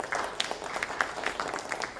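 Audience clapping at the MCCIA Pune Expo 2024 business event, a steady wash of many hands applauding from a crowd in a hall, moderately loud with no talk over it.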